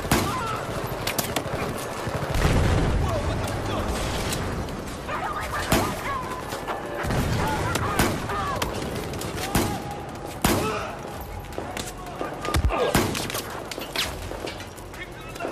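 Battlefield 4 gameplay with pistol shots and surrounding gunfire, repeated sharp cracks and bursts over a constant battle din, while a player talks throughout.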